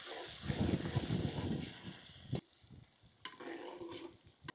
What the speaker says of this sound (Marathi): हिरवी मिरची कापलेली, लसूण, हिंग व्यवस्थित मिक्स करून घेऊ।